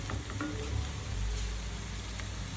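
Ginger paste frying in hot oil for a Nepali chicken curry, a steady close sizzle with a few light stirring knocks near the start.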